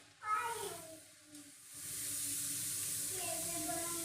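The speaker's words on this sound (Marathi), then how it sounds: "मस्त पोहे तळून घेणार आहे." Poha (flattened rice) dropped into hot oil for homemade chivda, with a burst of sizzling that settles into a steady, close frying hiss.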